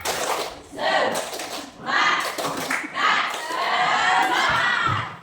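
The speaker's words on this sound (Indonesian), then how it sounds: "kita semua tepuk tangan untuk pelajaran hari ini" A classroom of children claps and cheers together at the end of a lesson, loud bursts of shouting and applause rising and falling in waves for several seconds.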